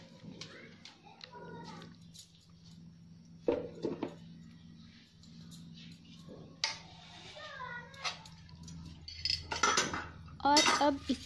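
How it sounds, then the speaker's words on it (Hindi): Spoon and pot clatter as fried onions are mixed into mutton dum biryani in a pot, with intermittent scraping and clinking strokes that sound close and moderately loud, in an otherwise quiet kitchen. "और अब इसे मिक्स कीजिए और अच्छे से मिक्स करना चाहिए इसे।"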